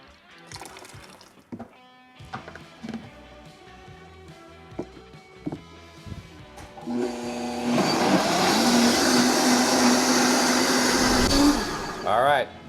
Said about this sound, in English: All right, we're done blending.